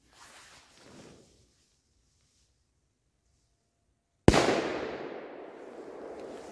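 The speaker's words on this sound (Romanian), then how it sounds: "Avem un banger de ăsta roșu de la Gheorghe." A red firecracker banger goes off with a single sharp, loud blast after a stretch of quiet, followed by a hissing, crackling tail as it burns out, outdoors during a Romanian National Day fireworks night.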